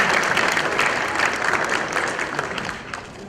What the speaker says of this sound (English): let us give you a nice round of applause